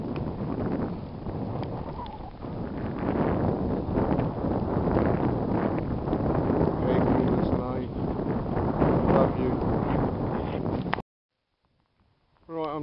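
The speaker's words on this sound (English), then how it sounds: "it's very windy out here at the moment" Strong wind buffets the microphone on a countryside cycle ride in Essex, England in a continuous roar for about eleven seconds, then cuts to near silence before a brief burst of noise returns.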